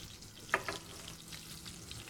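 Veal scaloppine frying in a hot pan, a soft steady sizzle with a couple of brief sharper crackles near the start, close and fairly quiet, with no talking.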